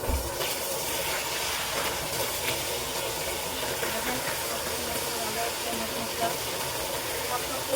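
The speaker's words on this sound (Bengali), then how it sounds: "মাছটা ভাজে দিচ্ছি, মাছটা ভাজা ভাজা হয়ে গেছে" Katla fish pieces fry in oil with a steady, loud, unbroken hiss that stays even from start to finish, close up and with no voices.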